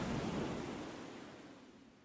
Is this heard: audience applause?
no